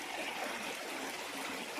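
River stream flowing beside a hiking trail on Mt. Tanawan, a steady, broad rushing wash of water that holds evenly throughout with no voices over it.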